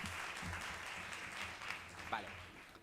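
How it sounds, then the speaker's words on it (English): A press conference audience applauding the inaugural opening film, a soft, distant patter of clapping under a murmuring room with a voice briefly rising near the end. "let's give a big round of applause for the inaugural and opening film"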